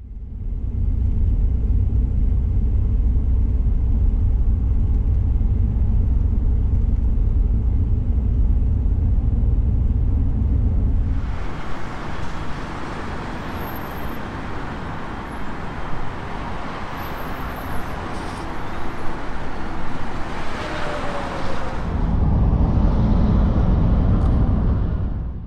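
Highway traffic near Denver rumbles on without a break: deep engine and tyre roar from a moving car, easing into a brighter, hissier wash of passing vehicles midway before the low rumble swells again.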